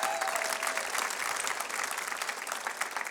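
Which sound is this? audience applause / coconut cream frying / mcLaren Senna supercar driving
audience applause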